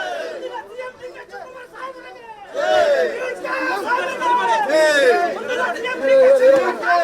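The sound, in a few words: party workers chanting slogans at KPCC office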